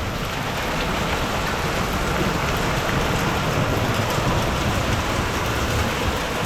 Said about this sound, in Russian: у нас просто идет град.